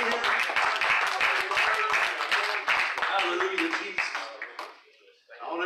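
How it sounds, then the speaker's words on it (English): A church congregation claps hands together in a steady, dense burst of applause at a Sunday evening service, loud and close, with voices mixed in before it thins out near the end. "Come on, clap your hands and thank Him tonight."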